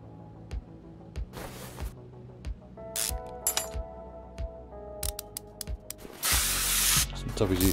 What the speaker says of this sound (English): Some WD-40 in there.